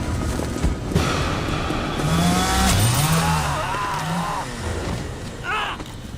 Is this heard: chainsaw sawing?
yes